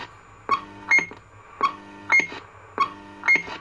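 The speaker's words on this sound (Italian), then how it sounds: "il Roger Beep l'ho reso più corto e più acuto" Roger beep from a reconditioned CB radio, modified to be shorter and higher pitched. It gives a clear electronic two-tone blip three times at steady intervals, each pair of beeps sitting over a low hum.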